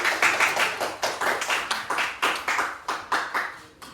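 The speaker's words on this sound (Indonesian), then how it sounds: "silakan maju, tepuk tangan dulu." A class claps for a student group stepping up to present, about fifteen sharp, evenly spaced claps that start strong and fade near the end, close and clear with no talk.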